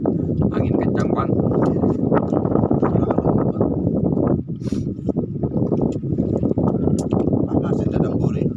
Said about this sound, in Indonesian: Angin kencang bang.